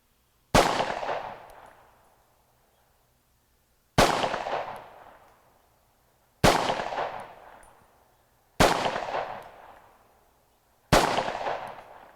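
Five loud, sharp gunshots from a Romanian TTC Tokarev pistol, spaced a few seconds apart at an uneven pace, each one a hard crack with a ringing decay, and nobody talking.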